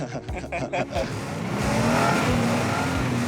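Pontiac Firebird or Camaro at a Los Angeles car meet revs its engine up to a sustained, loud, rising roar, after a few choppy bursts and brief chatter at the start.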